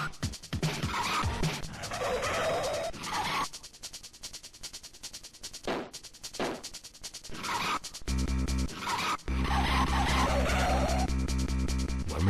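An Amiga racing game's cars: a continuous buzzing synthetic engine drone with harsh squealing skid sounds, brief gaps, and a low pulsing tone near the end, loud and steady throughout.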